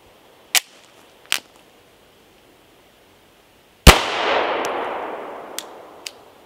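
A 9mm Glock G4 fitted with a Strike Industries slide compensator fires outdoors: two sharp distant cracks, then one loud close shot with a long rolling echo, followed by a couple of faint far-off reports.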